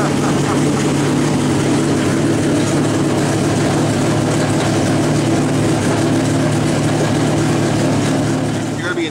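A race car engine runs loud and close, a steady deep rumble with a strong droning hum beneath a rough, gritty roar, holding level with only a slight fade at the end.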